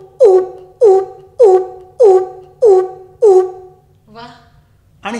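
A voice imitates the bharadwaj, or coucal, calling at dawn: six deep, booming hoots at an even pace, close and loud, then a shorter, softer sound and a final burst.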